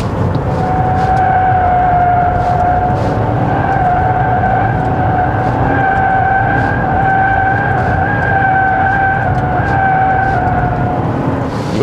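Chevrolet Trax Crossover with its 1.2-litre turbo engine, revved above 3000 rpm, gives a steady, sustained drone with a rising engine tone, moderately loud and continuous with no talking.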